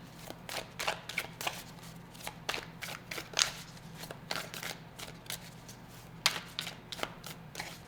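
A deck of tarot cards is shuffled up close, with a quick series of crisp riffling, flapping bursts that come in irregular clusters against a quiet background.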